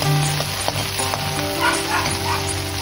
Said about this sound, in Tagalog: Haluin lang natin para maluto yung kamatis.